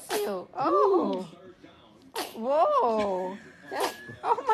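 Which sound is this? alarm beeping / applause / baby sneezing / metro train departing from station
baby sneezing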